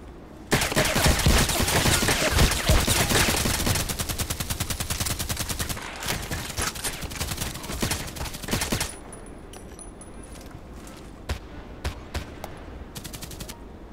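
Rapid automatic fire from a KelTec RFB carbine in the shooter game Contract Wars, loud continuous bursts at first, then thinning to sparser single shots with other distant gunfire.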